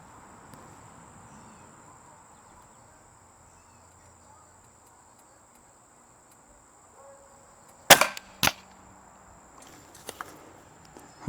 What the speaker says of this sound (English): first shot into the MDF.